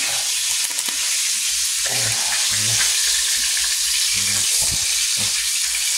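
Fish frying in a home kitchen pan, a steady close sizzle and hiss running throughout, with brief bursts of stirring or shifting in the pan.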